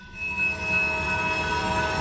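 A freight train rumbles past steadily in Bellevue, Ohio, with a sustained metallic tone ringing over the low rolling noise of wheels on track.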